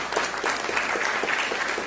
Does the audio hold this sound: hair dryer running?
no